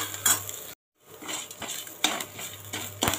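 A spoon scrapes and clinks against a pan while salted onions soften for a tiffin sambar, in bursts of metallic knocks and soft sizzle broken by a brief silent gap, with no talking.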